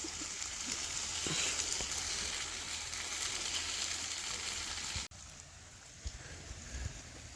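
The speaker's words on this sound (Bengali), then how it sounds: "তো আমাদের আদা রসুন পেস্ট প্রায় ফ্রাই হয়ে গেছে" Ginger garlic paste sizzles and fries in a pan, a dense steady crackle with a faint stir click, dropping to a quieter sizzle partway through.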